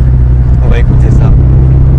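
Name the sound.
car accelerating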